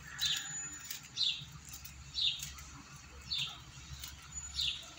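Caged bigodeiro seedeaters chirp in short, bright bursts at roughly one-second intervals, five or so quiet calls over soft background noise.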